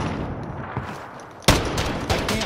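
Gunfire from a weapon in the video game Call of Duty: Modern Warfare, a sudden loud burst that cuts in midway after a quieter stretch of game noise, followed by further shots and rattling echoes.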